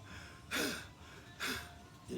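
A person imitates panting with two heavy, irregular breaths, close and clear, separated by a short pause.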